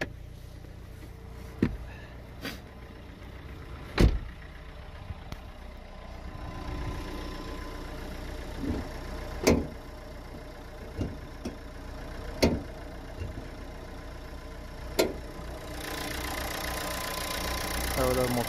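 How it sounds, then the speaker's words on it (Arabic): A car engine idles in a garage, a steady low rumble running the whole time with occasional sharp clicks and knocks over it, and a voice talking in the background. "بغيت نوريك تاني عمي المختار الموتور"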